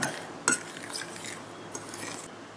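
A spoon clinks and scrapes against a bowl as ingredients are stirred, with a sharp knock near the start and softer scraping strokes after.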